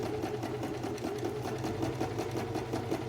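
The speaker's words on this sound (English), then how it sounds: "I'm going to start by putting my yoke and my back panel right sides together and sewing" A sewing machine runs steadily on a jacket seam joining the yoke to the back panel, a close, even mechanical whirr with a rapid needle rhythm and no pauses.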